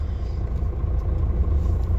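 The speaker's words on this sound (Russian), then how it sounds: "Вот, долго машина прогревается." A long-haul truck engine idles while slowly warming up, a steady deep rumble with a faint higher hum above it, continuous and close with no voices.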